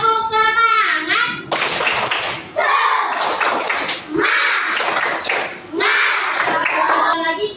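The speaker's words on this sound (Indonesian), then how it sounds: "Tepuk semangat." A class of children doing a rhythmic spirit clap in a classroom, bursts of patterned claps mixed with young voices chanting along.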